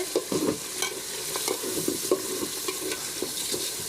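A pot of meat curry is stirred by hand after the gravy has dried down, with irregular scraping and clattering strokes over a low sizzle, close and fairly loud, no voices.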